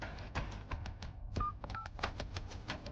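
Telephone keypad dialing tones, a quick run of short, evenly spaced beeps pressed one after another, fairly quiet and close, with no voices.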